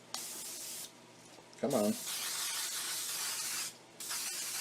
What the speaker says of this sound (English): just give it a quick spray of cooking spray